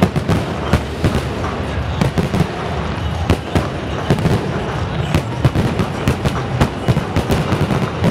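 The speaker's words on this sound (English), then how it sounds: "Fireworks going off everywhere." Fireworks go off at a cricket stadium during the Pakistan Super League final in Karachi, a dense, continuous barrage of crackling bangs and sharp pops over a loud crowd roar, with commentary faintly mixed in.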